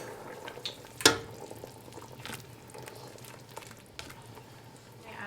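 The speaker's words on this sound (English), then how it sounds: "So the meat's boiling" Lamb meat simmers in water in a pot, a soft, steady bubbling and gurgling with a sharp clink near the start and occasional faint pops, fairly quiet and close.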